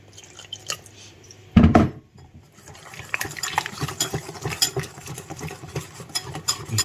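Banana fritter batter being mixed with water, producing close, steady wet squelching and dripping, with one brief heavier knock early before the sloppy stirring picks up and continues.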